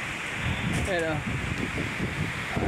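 A strong, cold mountain wind rushes through Little Baguio in Malico, Pangasinan, a continuous roaring hiss with low buffeting against the microphone, while someone speaks briefly over it.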